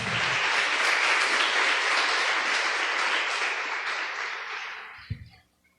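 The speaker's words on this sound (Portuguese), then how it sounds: "Palmas essa pastora aqui, o Apolo." A church congregation applauds steadily, a dense wash of clapping that holds for several seconds, then fades away, ending with a single louder clap.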